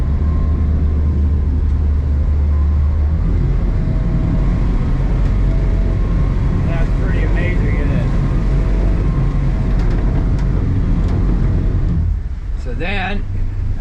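The outboard motor on a refurbished 2250 WT Stabicraft boat, beached, runs in reverse with a loud, steady, low engine rumble and some whining pitch shifts near the end; a voice talks over it at times.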